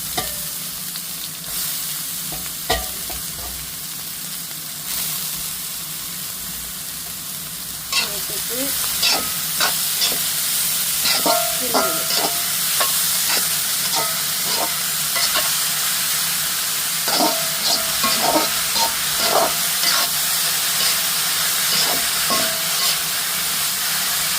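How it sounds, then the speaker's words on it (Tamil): Ingredients for a meat curry sauté in a hot pan, a steady loud sizzle with scattered scraping and stirring clicks from a spoon, growing fuller after the first few seconds; no talking. "வதங்கட்டும்."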